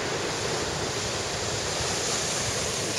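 Ocean surf rolls onto a beach in Goa, India, in a continuous broad wash of breaking waves with wind rush over the microphone, loud and unbroken, no voices.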